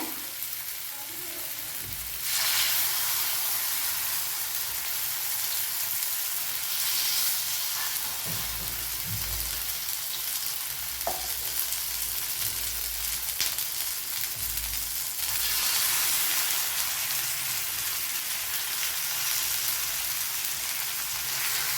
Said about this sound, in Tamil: பாருங்கள், ரொம்ப கம்மியான ஆயிலில் சூப்பரான ஒரு ஃபிஷ் ஃப்ரைங்க.